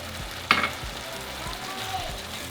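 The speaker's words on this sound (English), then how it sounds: "So now we're going to add our tomato sauce." Tomato sauce poured into a pan of sizzling tomatoes and oregano, giving one brief splashing burst over a steady, close frying sizzle with low stirring thumps.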